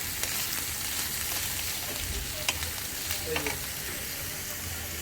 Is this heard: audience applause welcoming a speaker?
no